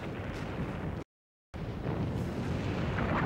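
World War I Big Bertha artillery firing one-ton shells against concrete forts: a loud, sustained rumbling roar of explosions, broken by a brief total silence before the din resumes.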